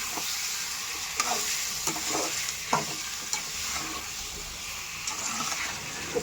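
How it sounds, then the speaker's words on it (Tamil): Chicken with turmeric is sautéed in a pan, making a soft continuous sizzle broken by several stirring scrapes and taps, close by and with no voices. "மஞ்சள் போட்டு நல்லா வதக்கிக்கலாம்"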